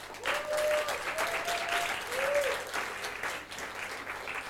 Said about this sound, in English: Please give a round of applause for Miss Fanny Angelesca